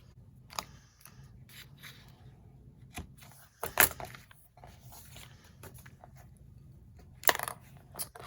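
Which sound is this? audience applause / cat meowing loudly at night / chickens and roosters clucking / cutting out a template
cutting out a template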